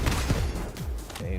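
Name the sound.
gunfire in a video game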